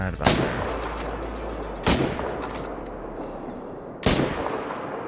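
Three loud rifle shots at a crocodile in theHunter: Call of the Wild, spaced about two seconds apart, each a sharp crack followed by a rumbling tail that fades into a quiet outdoor background.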